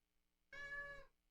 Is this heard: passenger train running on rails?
no